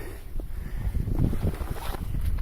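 Steady wind rushes and buffets against the microphone high on a summit near the Podzamcze bunker, a loud continuous roar with no talking.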